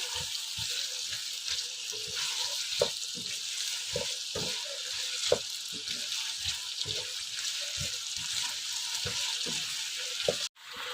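Arvi, taro root pieces, fry in a pan with a steady sizzle, while repeated soft knocks and scrapes of stirring come at an irregular rhythm, close by.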